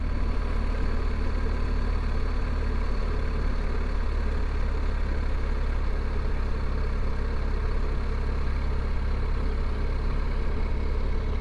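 BMW R1250GS motorcycle engine running while riding on an Indian road, a steady, continuous low drone with broadband wind and road noise throughout, no speech.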